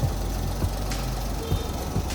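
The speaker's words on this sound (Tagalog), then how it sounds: "Ito yung makina mga boss." A Toyota Wigo engine idles smoothly after a misfire repair. A steady, low mechanical hum holds throughout, with faint soft thumps and no talking.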